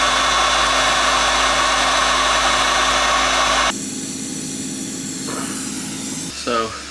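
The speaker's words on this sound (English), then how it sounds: "they've got a generator and they're sandblasting" A generator drones loudly and steadily beside a boat being sandblasted in a boatyard, a harsh broadband hiss over the engine hum that suddenly cuts to a quieter rumble, followed by a brief clatter near the end.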